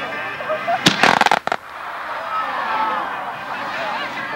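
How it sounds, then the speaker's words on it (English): Fireworks on a beach go off in a rapid burst of sharp cracks and pops, followed by a lingering crowd-like rumble and murmur. "With a display of fireworks on the beach."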